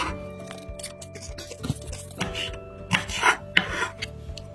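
Onions chopped finely in a kitchen for pesarattu: irregular scraping and knocking bursts, close up, with a faint background hum and no talking.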